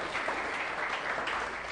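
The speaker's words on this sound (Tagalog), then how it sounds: "The best mong palakpak para kay Jesus." A church congregation claps together in a loud, sustained burst of applause during a worship service.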